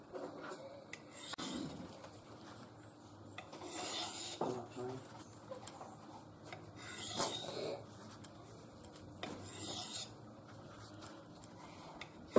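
Knife blade drawn along the fine side of a Buck EdgeTek Ultra Flipstik diamond sharpening rod, giving several soft rasping strokes at an uneven pace, close and fairly quiet, with no talk over them.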